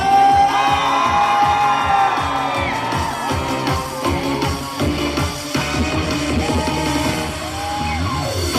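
A crowd at an outdoor night festival concert cheers and claps during a trot performance, loud whoops and shouts rising over the ongoing music and singing, then settling into a busy background roar.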